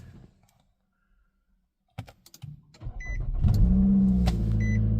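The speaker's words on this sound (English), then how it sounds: "Depress brake. Car starts up." A 2009 Nissan car cranks and starts after a stretch of quiet, with a few clicks and a short crank, then a steady, loud engine idle that continues to the end.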